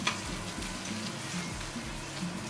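Barbary duck breast fries in a pan as its fat renders out, giving a steady, soft sizzle and crackle that carries on without a break, with no voices over it.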